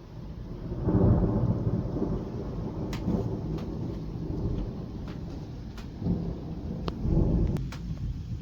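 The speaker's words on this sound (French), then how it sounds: "On est à quelques centaines de mètres d'un orage." A strong August thunderstorm over Bordeaux a few hundred metres away, with rolling rumbles of thunder over steady heavy rain and scattered sharp cracks throughout.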